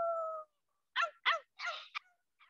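A parrot imitates a coyote, giving a short run of separate yelping, howl-like calls with gaps between them, close and clear after a brief steady tone at the start.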